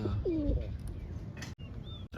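A pigeon coos in a low, throaty burst near the start, with a person speaking over and after it and a few brief background chirps.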